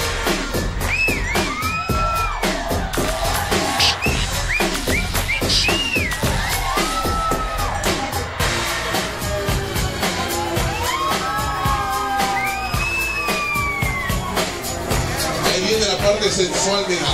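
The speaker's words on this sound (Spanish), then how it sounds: "¡Esos aplausos, mire!" Wedding party crowd cheering, whistling and clapping at a reception dance, loud and continuous, with repeated sharp whistles rising above dense claps and shouts.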